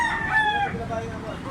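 A young stag rooster crows once nearby, a loud, bright, strained call that trails off within a second, with faint farmyard noise and a murmuring voice in the background.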